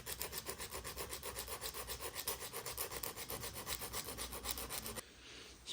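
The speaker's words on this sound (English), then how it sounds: "Get your file and start filing away" A metal file strokes steadily back and forth across a piston ring end to open its gap for an SBC 383 stroker build, with an even rasping rhythm of about four strokes per second that stops abruptly near the end.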